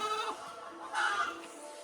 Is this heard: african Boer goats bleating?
yes